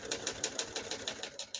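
Keys clack on a 1973 Olivetti Studio 45 portable typewriter, a quick run of about a dozen crisp strikes in an even rhythm, close and moderately quiet.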